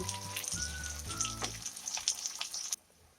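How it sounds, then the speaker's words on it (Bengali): Pointed gourd pieces fry in oil with salt and turmeric, a close crackling sizzle with scattered pops over a low tonal hum, cutting off abruptly near the end. "অল্প একটু লবণ দিয়ে আর হলুদ দিয়ে পটলগুলোকে আমি ভেজে নেব"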